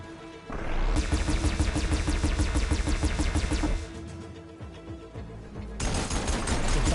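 Cannon fire in Horizon Forbidden West, a rapid, loud burst of repeated booming shots that runs for about three seconds, pauses to a lower rumble, then resumes near the end.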